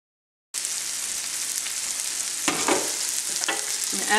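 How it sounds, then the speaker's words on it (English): Shallots sautéing in a pan for a shrimp and mushroom sauce give a steady, close sizzle and frying hiss, with a few stirring scrapes and bursts near the end and no talk. "Let that saute for just a couple minutes."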